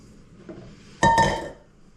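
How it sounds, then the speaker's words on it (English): Medium russet potatoes drop into a cooking pot with one sharp, close clunk and a short metallic ring, after a faint softer knock just before. "we're going to add 5 medium russet potatoes"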